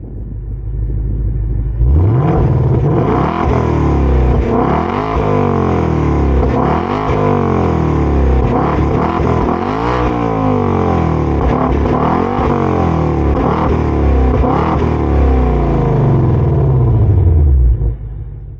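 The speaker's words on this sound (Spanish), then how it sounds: "Vemos también este difusor donde acompañan estas 4 salidas de escape que" A 2025 Ford Mustang GT V8 rumbles loudly and close through its quad exhaust, starting up after a brief quiet moment and then revving repeatedly in strong rising and falling bursts before cutting off near the end.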